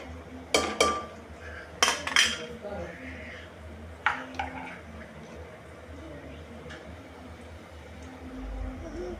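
Spiced masale bhat rice being stirred in a metal pot, with a few sharp clinks and scrapes of a spoon against the pot early on, then quieter background.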